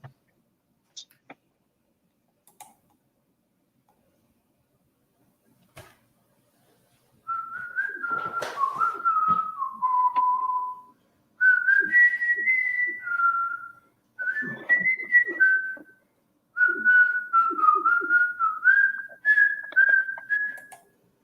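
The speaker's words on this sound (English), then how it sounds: "I was trying to whistle a tune." A person whistles a halting, uneven tune in a quiet room, with phrases of wavering notes separated by short pauses after a stretch of near silence.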